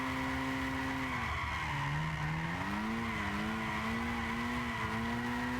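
A virtual RE Amemiya RX-7 drifting in Gran Turismo 6, its tires squealing in a long continuous slide whose pitch dips and rises through the corner over a steady engine drone.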